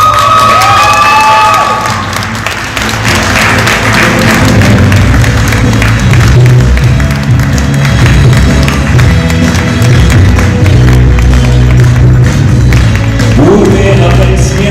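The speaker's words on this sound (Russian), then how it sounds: "Бурные аплодисменты победителю второго республиканского фестиваля короткометражных фильмов «Республика кино»." Loud crowd at the closing of the second Republic of Cinema short film festival in Yakutia cheers and applauds the best-film winner, a dense, sustained roar of voices and clapping with music underneath throughout.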